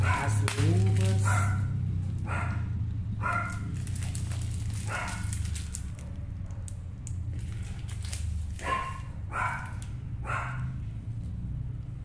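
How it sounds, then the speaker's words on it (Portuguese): Several dogs bark in repeated bursts at a moderate distance, with short pauses between volleys and a low steady hum underneath. "E os cachorrinhos latinhos, os cachorrinhos da vizinha."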